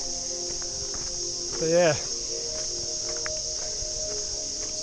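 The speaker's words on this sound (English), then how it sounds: "cicadas are here, but they're different cicadas" Cicadas in the Mapleton National Park bush keep up a steady, high, even drone throughout, with someone briefly talking over it near the start and faint footsteps on the track.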